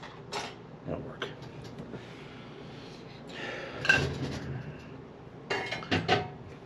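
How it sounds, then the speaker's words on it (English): Dishes, pots and cutlery clatter and clink in scattered bursts as a dishwasher is loaded at home, with a louder cluster near the middle and another toward the end, fairly close by. "If you haven't noticed, I'm loading the dishwasher."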